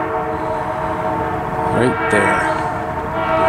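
A train passes at Petticoat Junction, its horn sounding in two bursts mid-clip over a steady rumble of rolling cars, with people talking nearby.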